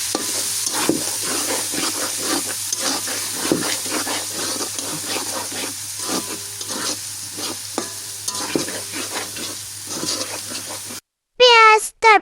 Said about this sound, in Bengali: তারপরে এখন আমি গরম মশলা বেটে দিয়েছি, এটার এখন আপাতত কিছুক্ষণ কষাবো